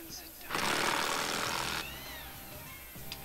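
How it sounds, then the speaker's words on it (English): An electric impact gun removes the wheel nuts from a car wheel that has a hydraulic leak. It gives one loud, close burst of hammering whir lasting just over a second, with quiet pauses before and after. "I love this electric impact gun."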